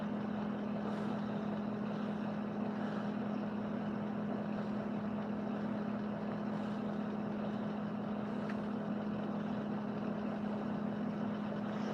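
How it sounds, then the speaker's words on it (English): Motorhome engine idling steadily with an exhaust leak on one side, a loud constant low rumble with a strong droning hum and faint ticking hiss, continuous and close throughout. "it's just got an exhaust leak on the one side."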